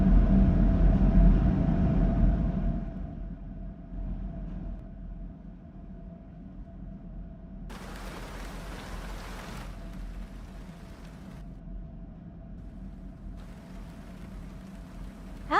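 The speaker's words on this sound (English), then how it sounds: "Now we got rain and heater vent sounds." Steady rain ambience with a low heater vent hum, a dense continuous wash that starts louder and settles into a softer, even hiss, with a few brief brighter bursts of patter.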